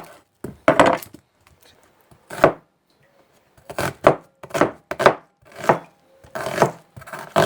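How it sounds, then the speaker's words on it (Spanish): A knife chopping onion on a board in a home kitchen, firm irregular thuds coming in short bursts with quiet gaps between, close and clear with no talk. "La cebolla hay que cortarla como si fuésemos a hacer un tuco."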